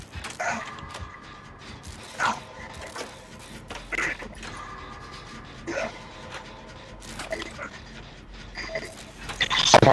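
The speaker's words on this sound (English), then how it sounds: "Listen to his breathing in my ear." In a horror video game on the Midwich map, the Doctor character breathes in heavy, raspy panting bursts roughly every two seconds, close and harsh, with faint game ambience between.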